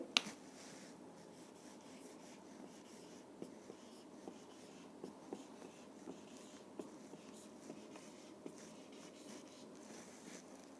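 Chalk or marker scratches and taps steadily across a board during a biology lesson, faint and even, with small clicks scattered through the strokes.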